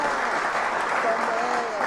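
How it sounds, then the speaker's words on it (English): A dense, steady wash of hand claps greets a guest DJ on a radio show, filling the whole moment at even loudness while voices talk over it. "Can we get some hand claps?"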